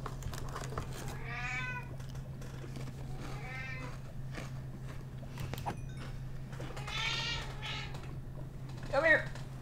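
A pet cat meows several times indoors, drawn-out harmonic cries spaced apart, with a steady low hum underneath and a sharper, louder meow near the end.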